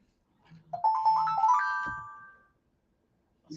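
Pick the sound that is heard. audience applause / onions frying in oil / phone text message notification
phone text message notification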